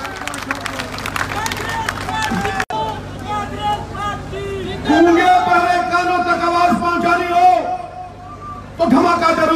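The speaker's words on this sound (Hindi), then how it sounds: "ठोको ताली।" Crowd at a political rally in Rohtak claps and cheers in several bursts, with broad babble and shouting swelling loudly around the middle and again near the end.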